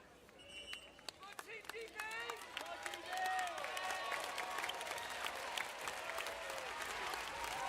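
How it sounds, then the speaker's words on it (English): A crowd at a London 2012 Paralympic football match applauds as players return after a timeout, the clapping building steadily and distant, with a commentator talking over it. "Always nice for the crowd to clap when the players come back after a timeout"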